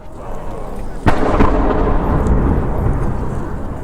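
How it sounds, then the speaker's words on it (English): Edinburgh Castle's one o'clock gun fires once, a single sharp boom heard at a distance that rolls out into a long rumbling echo over the noise of a crowded outdoor street. "If you listen now, you will hear the 1 p.m. gun, which is fired at Edinburgh Castle every day."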